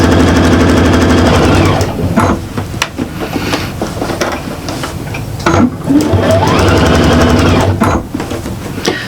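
A sewing machine stitches the side seam of a fabric shopper bag, running in a loud, steady rapid chatter with a few brief pauses and restarts.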